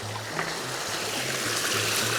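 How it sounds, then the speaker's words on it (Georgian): A mountain river near Triglav in Slovenia flows with a steady broadband rush, constant and fairly close, with a faint regular low hum pulsing underneath and no voices. "იქიდან მესმის მდინარის ხმა."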